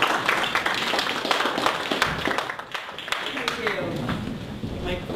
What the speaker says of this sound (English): So let's give our speaker a warm round of applause.